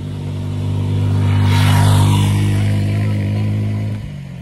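Up close, a motorcycle engine revs, climbs to a loud peak, holds briefly and then drops back toward idle, running alone without voices.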